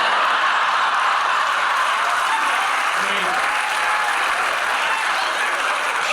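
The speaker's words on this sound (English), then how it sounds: "Huge reaction from the crowd here." Dense crowd applause from a video game, a continuous loud clatter of many hands clapping at an even level throughout.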